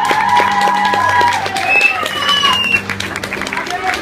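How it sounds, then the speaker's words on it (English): Audience applause and cheering for singing competitors at a pub competition in Barry, Wales, crowd clapping under loud talk and shouts, fairly close and lively for a few seconds. "give a round of applause!"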